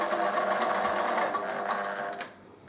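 A sewing machine runs steadily, stitching and back stitching along the bias binding of a fabric coaster, a close continuous whir that slows and drops off near the end.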